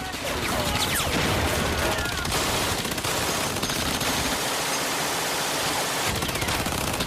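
Dense machine gun fire and battle noise from a beach landing in Normandy, Second World War, a loud continuous roar of rapid bursts and blasts with no pauses.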